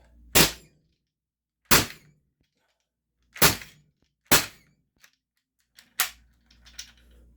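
An Umarex HDB 68 CO2 pistol fires round balls in five loud, sharp reports spaced about a second apart, followed by faint clicks and handling noise.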